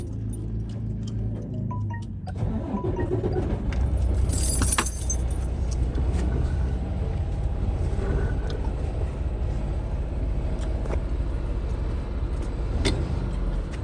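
A long-haul semi truck's engine turns over and settles into a steady, heavy diesel rumble after a brief jingle of keys, the low drone filling the cab up close and continuing to the end.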